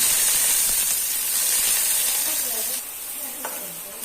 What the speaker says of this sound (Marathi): तेल गरम झाल्यानंतर सर्वात आधी कांदे